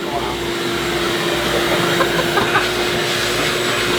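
A continuous loud vacuum drone with a steady hum, mostly unchanging, and faint voices underneath.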